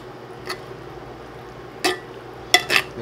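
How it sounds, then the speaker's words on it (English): Fresh coriander is stirred into a vegan chickpea curry with coconut milk. Three or four soft scraping clinks of a utensil against the pot sound close by over a low, quiet simmer. "actually throw the coriander in. Fresh cilantro or coriander, whichever name you call it. And I'm gonna mix it."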